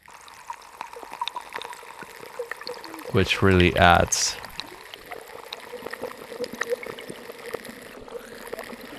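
A dual waterfall captured underwater with a hydrophone, loaded as a sample: a steady rushing, pouring wash with a louder surge in the middle, under some talk.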